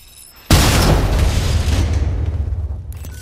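A loud, close explosion in the battle royale shooter Apex Legends, erupting suddenly with a heavy boom and a long rumbling decay that fades over about three seconds.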